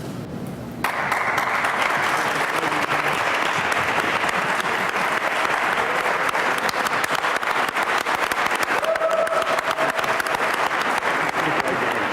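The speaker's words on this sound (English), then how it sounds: "Please give these shining lights another big round of applause." An audience at a scholarship award ceremony hosted with a chamber of commerce and school district gives a loud, sustained round of applause to the recipients, starting quieter and swelling suddenly to a dense, continuous clapping that lasts several seconds.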